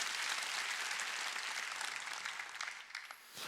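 Sustained, loud applause from a church congregation at a Sunday worship service, a thick wash of many clapping hands that gradually thins and fades toward the end.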